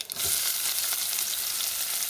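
Mustard seeds sizzle and crackle steadily in hot oil, tempering for a buttermilk rasam, a dense close frying hiss that runs alone without any talk.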